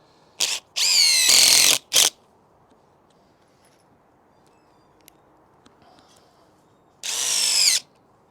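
A DeWalt cordless drill fitted with a MAX FIT locking bit adapter drives long fasteners in loud, close bursts: two short whirs, one longer run and a brief blip, a quiet gap, then another sustained drive near the end.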